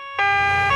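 A cartoon ambulance's wailing two-tone siren starts suddenly and holds loud and close, its bright tone ringing steadily over a low engine rumble.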